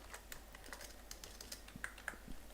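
Keys clatter on a computer keyboard as someone types a C for loop, a quiet, steady run of soft taps with a few sharper strikes, close by and without talk.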